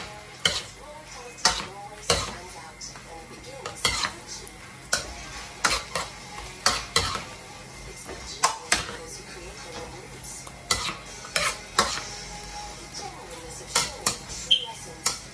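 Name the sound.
stirring beef and young corn stir fry in a pan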